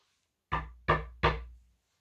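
Three firm knocks on a door, evenly spaced and close up, each a sharp rap that rings out briefly before the next, with silence before and after.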